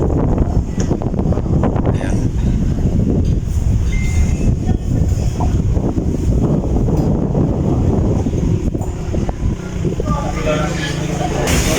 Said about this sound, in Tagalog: medyo malakas yung hangin dito